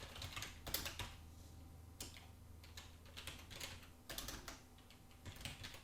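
Keys tapped on a computer keyboard while a component name is entered in CAD software, short bursts of close keystrokes separated by pauses, no talking.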